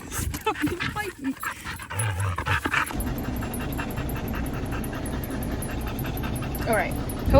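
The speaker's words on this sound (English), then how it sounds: "hopefully you can hear me over this obnoxious panting in my blasting AC." A dog pants steadily and loudly close by, with a blasting air conditioner humming underneath. Scuffling, whimpers and voices come early, then the panting goes on unbroken.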